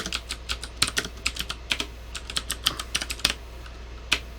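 Someone types on a computer keyboard, sharp close key clicks in uneven bursts with short pauses and no talking.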